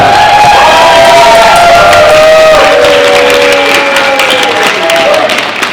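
A loud convention crowd at a cosplay contest cheers, whoops and claps continuously, with high shouted voices riding over dense applause.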